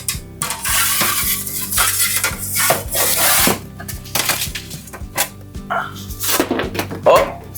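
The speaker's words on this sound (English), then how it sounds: "Let's get it out of the oven." Pan of cornbread bowls coming out of an oven in a home kitchen, with clattering metal, thumps and knocks of the pan and oven rack, while a person talks throughout.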